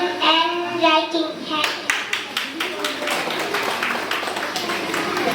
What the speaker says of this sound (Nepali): जोरदार ताली बजाइदिनु होला